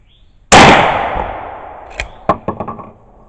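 A single sharp, loud gunshot from a managed recoil load at an outdoor shooting range, its blast decaying over about a second, followed by several faint clinks and thuds.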